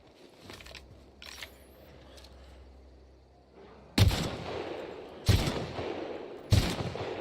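Three loud, separate gunshots from fighting creatures in The Outer Worlds ring out a second or so apart, each one a sharp crack with a short tail. Before them come quieter clatters and a low hum.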